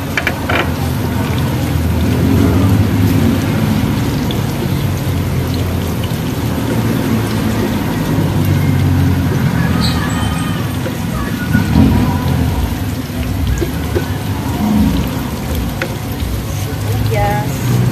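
Onions and garlic sizzle in a hot pan for a Filipino mung bean and shrimp sauté, a steady crackling hiss close by under a voice talking.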